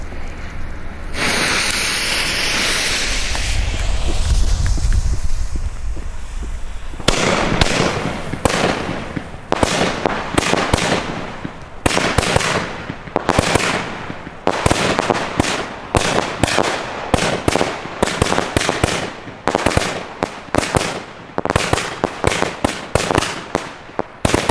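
A pure Crozet-star fireworks combo erupts in a rapid string of loud, sharp crackling bursts, starting with a long hissing rush and then popping in dense, irregular volleys, no talking over it.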